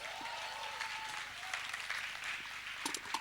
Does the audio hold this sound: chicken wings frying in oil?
no